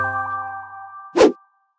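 A bright notification bell ding rings once, clean and close, after a soft sustained musical tone fades underneath.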